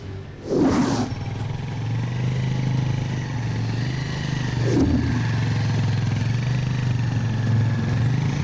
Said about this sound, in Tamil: சக்தி சக்தி சக்தி, வண்டி நிறுத்து.